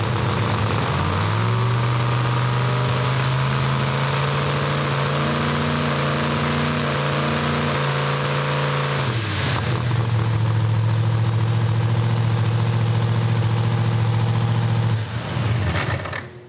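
A Pro Mod Hemi race car engine runs loud and close, droning at a steady idle before swelling into a hard, rising rev, then holding a strained high note and cutting off abruptly near the end.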